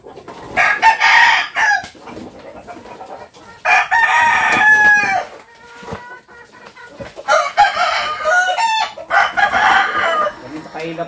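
Labuyo (red junglefowl) roosters crow loudly and repeatedly close by, with clucking and other calls between the crows, in an outdoor rural setting.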